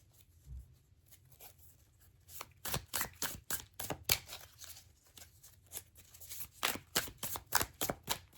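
Tarot cards being shuffled by hand, quiet at first and then a quick rhythmic series of crisp riffling snaps and taps, close and fairly soft with no talking.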